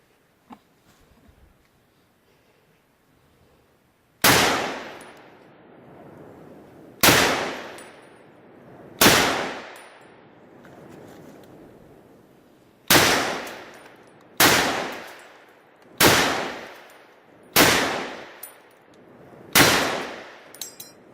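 Armor-piercing rifle rounds, M2 tungsten-core and 7.62 ammunition, striking a level 8 ballistic barrier panel: eight loud, sharp single reports at irregular intervals, each with a decaying ring, after a few seconds of quiet.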